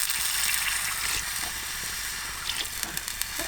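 Water pours steadily into a cooking pot while chicken noodle soup is being made with a broth base, a continuous splashing fill heard up close with no talking.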